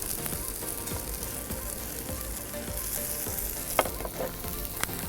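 Spring onions frying in a pan beside pork belly and vegetables, a steady crackling sizzle with soft rhythmic stirring and a couple of sharp utensil knocks near the end.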